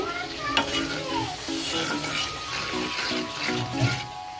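Onions frying with spices in a pan in a Bangladeshi home kitchen, a loud close sizzle with stirring scrapes and clatter of a utensil, continuous with occasional bumps, no talk.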